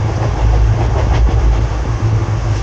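Loud, steady rumble and rattle of the Kanchankanya Express running on rails between Siliguri and Kolkata, with low-pitched rolling drone and faint clickety-clack from the carriages, heard from on board without any talk.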